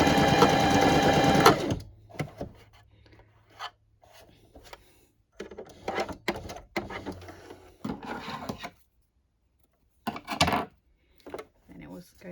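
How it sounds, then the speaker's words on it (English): A sewing machine runs fast for about a second and a half, stitching a Barbie doll dress, then stops. Scattered handling clicks and rustles follow, with brief quiet gaps between them. "So I'm going to stitch it down and then I'll pull the elastic through."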